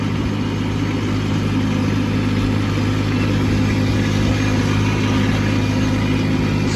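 A Kubota B2601 compact tractor fitted with tire chains runs steadily on an icy slope in wet snow, its engine droning loud and constant while the wheels spin without letting up.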